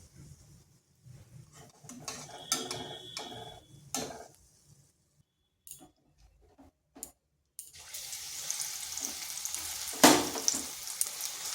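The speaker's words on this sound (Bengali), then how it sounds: "এইভাবে সবগুলো ভেজে নিচ্ছি।" Bread slices fry in hot oil for a sweet bread dessert. The sizzle starts as patchy, intermittent crackling, then turns into a steady, fuller hiss with occasional louder spits near the end, and no talking.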